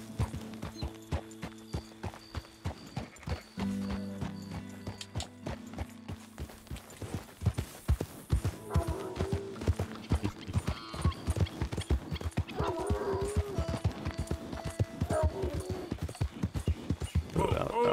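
Horse hooves clip-clop steadily in Red Dead Redemption, slow at first and then quickening into a busy run, with a brief whinny and game background music underneath.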